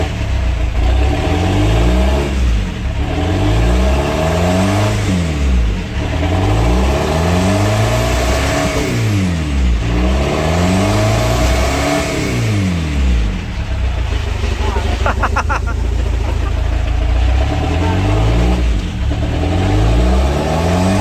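A Chevrolet Captiva diesel that has sat unused for two years is revved repeatedly, the engine rising and falling in loud, close surges that reach high RPM.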